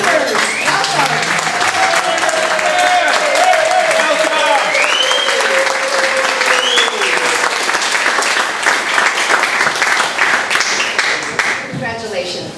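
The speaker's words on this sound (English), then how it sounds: "let's have a round of applause for our newest members" Club meeting audience applauding new members as they receive badges, sustained loud clapping from a room of people with a brief voice rising over it near the start.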